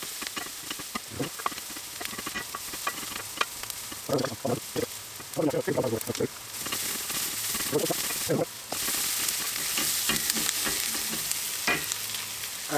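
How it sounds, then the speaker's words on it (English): Bay leaves and allspice frying in a pan, a steady sizzle running throughout with scraping stirring strokes mixed in, close and moderately loud. "Just get that frying off, get those spices nice and to release the fragrance of them"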